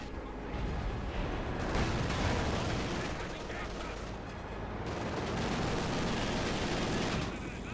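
Gunfire and explosions from the video game Company of Heroes 2 crackle and rumble in a dense, continuous battle mix, with a commentator talking over it.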